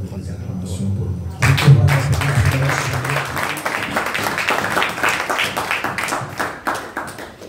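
A congregation applauds during an evening church worship service, a burst of clapping that starts suddenly and continues steadily, mixed with voices speaking over it.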